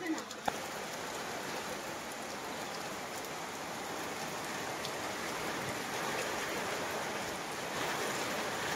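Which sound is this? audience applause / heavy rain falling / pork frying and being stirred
heavy rain falling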